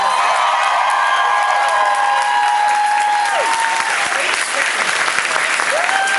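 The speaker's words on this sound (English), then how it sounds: "We'll give him a huge round of applause." A loud, sustained round of applause and cheering from a club audience at a concert at Le Poisson Rouge, dense clapping filling the room while a voice or instrument tone sounds underneath.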